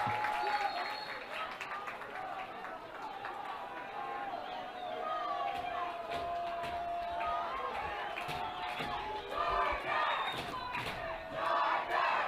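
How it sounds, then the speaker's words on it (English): Lacrosse fans cheer and shout from the stands at a boys high school game, a broad crowd roar that swells and fades across the clip, with a commentator's voice talking over it. "Corner Canyon fans trying to make noise, cheer on the Chargers"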